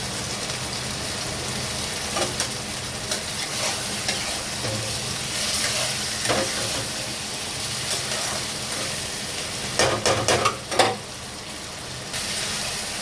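Onions sizzle and frying in a pan after garlic paste goes in, with a steady crackle, occasional stirring scrapes and a few louder spatters near the end, close and with no talk.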